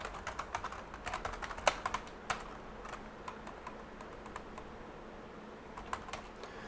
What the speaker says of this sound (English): Oh, now I need to type this again